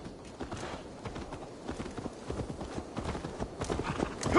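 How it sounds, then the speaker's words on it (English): Horse hooves clip-clop in a rapid, steady rhythm in the video game Assassin's Creed Valhalla, moderately close and growing slightly louder toward the end. "Let's return the horse."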